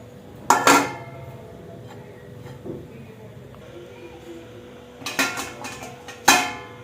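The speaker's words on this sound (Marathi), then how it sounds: "ह्याच्यावरती आता आपण ना झाकण ठेवून देऊ" A metal lid clanks down over a pan-cooked pizza resting on a roasting grate on a stovetop, with a sharp clatter early on, then a quiet pause, and a cluster of clinks and knocks near the end.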